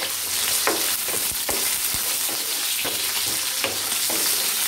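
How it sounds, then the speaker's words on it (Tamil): Small onions (shallots) sauté in oil in a pan for chicken uppu kari, a steady close sizzle broken by regular scraping stirs, with no voices. "இப்போ இத நல்லா வதக்கி விடுங்க"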